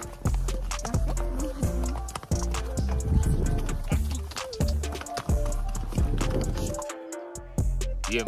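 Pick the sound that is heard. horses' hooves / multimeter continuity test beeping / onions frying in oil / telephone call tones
horses' hooves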